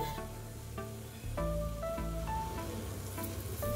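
Oil hits fish roe in a hot pan, and a soft sizzle jumps to a louder, steady frying hiss. The hiss carries on under faint background music.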